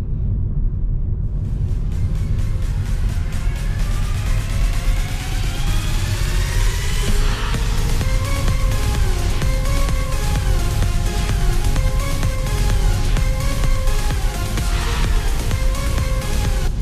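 Cabin drone of a 2024 Mitsubishi Xpander GLS cruising on a road, a steady loud low rumble with the engine note slowly climbing as it accelerates, no one talking.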